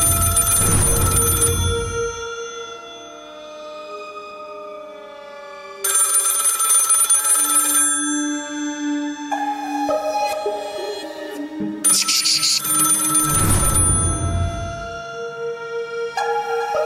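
A telephone rings in three separate bursts, each about two seconds long, in a Marathi TV serial scene. Sustained dramatic music fills the gaps between the rings.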